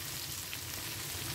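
Chopped onion in hot oil for an egg pepper fry, an even, dense sizzle heard close and quite faint, with no voices over it.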